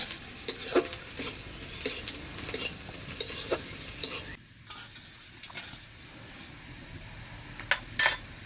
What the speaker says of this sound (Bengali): ডালের মধ্যে পেঁয়াজটা একটু ভালো করে ভেজে দিতে হয়